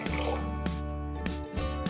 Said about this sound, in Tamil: இப்போ இந்த சர்க்கரை கரையத்துக்கு தேவையான அளவு தண்ணி கொஞ்சமா ஊற்றினா போதும்.